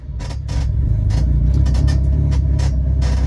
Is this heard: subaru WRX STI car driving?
yes